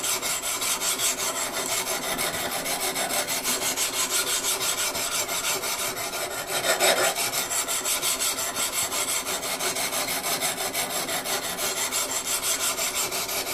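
A timber framing slick chisel being worked on, producing a loud, close, unbroken rasping with a fast, even back-and-forth rhythm that runs for the whole stretch, with one brief heavier scrape midway.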